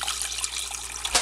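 Filtered water poured into a pot for making chai tea, a steady hissing splash and trickle lasting about a second, close and fairly loud with no talking.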